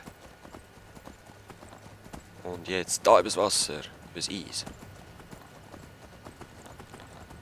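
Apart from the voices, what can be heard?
horse galloping hooves, video game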